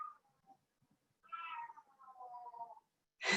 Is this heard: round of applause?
no